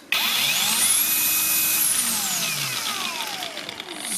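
A Makita DUC 302Z cordless electric chainsaw, just reassembled after a fault where it stalled and lacked power, spins up to a loud, steady high whine with rising and falling motor tones, close and alone without talk.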